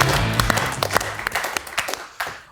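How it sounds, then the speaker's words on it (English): A short burst of muted applause from a studio audience at a satirical TV panel show, scattered clapping that fades out over a couple of seconds. "Muted applause."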